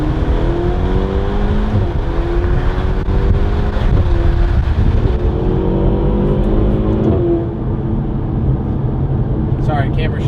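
Turbocharged Ferrari engine with a slightly muffled exhaust, a loud steady drone whose pitch climbs and falls through several rev changes, like a car driving nearby.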